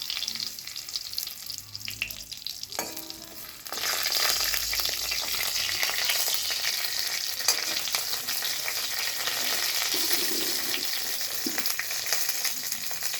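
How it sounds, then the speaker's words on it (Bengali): Bay leaves dropped into hot ghee in a kadai sizzle and crackle steadily, loud and close, with frying hiss continuing throughout and no talking. "ঘিটা গরম হচ্ছে আর আমি দিয়ে দিলাম দুটো তেজপাতা"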